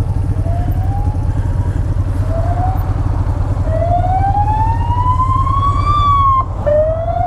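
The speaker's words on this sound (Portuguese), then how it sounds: "ouça a sirene" An emergency siren of a GNR vehicle or ambulance in Portugal, between Caminha and Vila Nova de Cerveira, wails in rising sweeps over a loud, constant engine rumble, growing stronger and higher toward the end.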